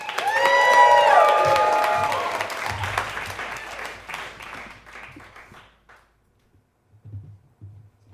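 Audience applauding and cheering for a twang-core band at the Highland Inn, loud at first with whoops and a sung note, then thinning out and fading to a few scattered claps.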